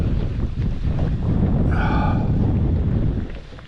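Strong wind buffets the microphone on a small fishing boat in the shallows of Moreton Bay, making a continuous low roaring rush with a brief whistling tone in the middle and no talk.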